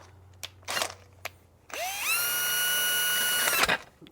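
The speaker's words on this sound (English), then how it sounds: "13/64 drill bit, and I think we'll drill this." A power drill with a 13/64 bit bores a hole, likely into metal on a Honda CB360 motorcycle restoration, the motor whining up and holding steady for about two seconds after a few short handling knocks, loud and close.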